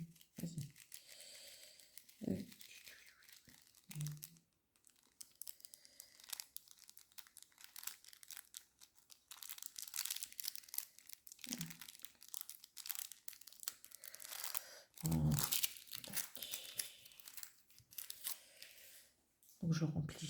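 Paper rustling and crinkling on and off nearby while packing an order, with brief bursts of handling noise and a few short spoken sounds between them.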